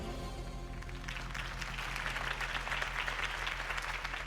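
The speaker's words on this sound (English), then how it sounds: "could have heard that applause" A video game crowd in Batman: The Telltale Series applauds steadily, a dense wash of clapping that swells slightly and holds, with a low musical drone underneath.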